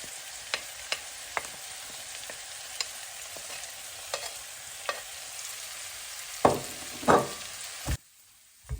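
Garlic frying in a pan while preparing laing, a steady sizzle broken by sharp scraping stir strokes that grow louder near the end before a sudden cut to near silence.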